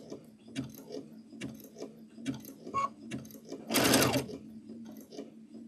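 An embroidery sewing machine stitches a locking stitch, ticking in a steady mechanical rhythm with a soft motor hum, then a brief louder whir of rapid stitching partway through.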